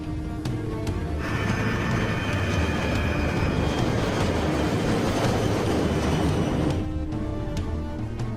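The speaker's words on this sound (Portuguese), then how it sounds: "O White Knight 2 e sua carga aceleram pela pista" White Knight 2 carrier aircraft, with its payload attached, roars steadily as it accelerates down the runway for takeoff: a loud, continuous broadband rumble with tonal engine whine, swelling and holding for several seconds before easing off.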